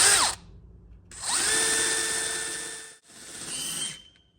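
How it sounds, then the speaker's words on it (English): A power drill whines in three bursts while boring into existing holes during compressor servicing. Each burst runs up to a steady high whir and then stops abruptly, close and loud with no talking. "I hate drilling into existing holes."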